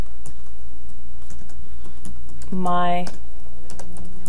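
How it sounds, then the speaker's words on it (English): Rapid clicking of a computer keyboard as someone types into a search field, steady and close, with a person talking over the keystrokes. "I'm going to type in the search area Pixel"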